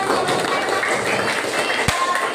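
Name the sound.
classroom children clapping hands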